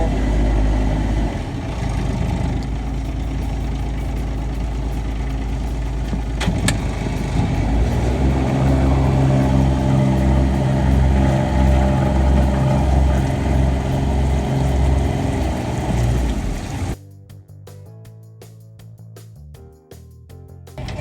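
Boat engine rumbling loudly and steadily while docking, with the pitch and load shifting as it changes between reverse and forward, then dropping abruptly to a quieter idle near the end.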